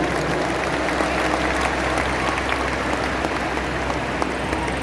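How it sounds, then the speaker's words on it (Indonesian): A large outdoor crowd at an open-air election campaign rally applauds continuously, a thick, even patter of clapping that holds steady without a break, heard from within the gathering. "Tepuk tangan untuk semua yang memilih hadir di sini."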